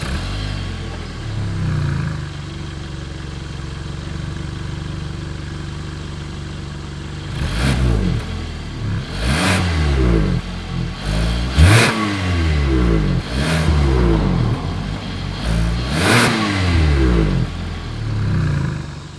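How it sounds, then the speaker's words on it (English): Exhaust of a 2021 Hyundai Tucson, starting with a steady idle, then a series of sharp throttle blips that rev up and fall back in a repeated rhythm, loud and close with no talking. "As always, here is that exhaust clip."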